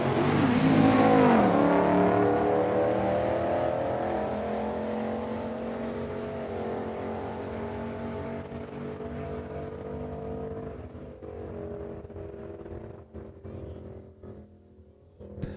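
A convertible Mustang drag car launches at a drag strip, its engine roaring loud and near at first, then rising in pitch while the sound fades steadily into the distance, with no voices.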